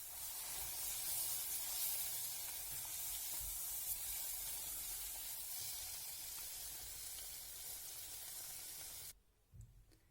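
Flour halva with walnuts stirred in a hot pan gives a steady, close sizzling hiss that runs evenly and then drops away abruptly near the end, with no talking.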